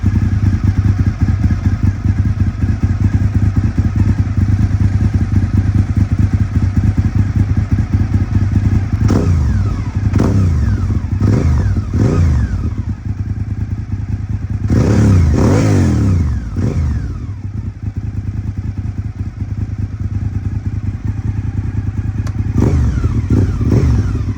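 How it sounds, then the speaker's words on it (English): A Honda RC51 V-twin motorcycle with gear-driven cams rumbles loud and close, idling with a deep grunting pulse before several sharp throttle blips and revs, then settling back to idle. "With the gear cams and just that glorious grunting noise from the Honda V-twin"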